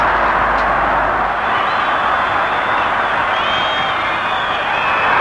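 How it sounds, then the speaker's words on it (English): A football crowd at a Nottingham Forest match roars as the game ends, forming a dense, loud, continuous wall of cheering and shouting with no pauses. "The crowd have gone completely and utterly bonkers."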